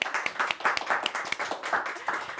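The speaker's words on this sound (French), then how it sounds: "vous pouvez vous applaudir." A public at a French book-club event claps, individual hand claps distinct and uneven in a lively patter that stays close and fairly loud for the whole short stretch.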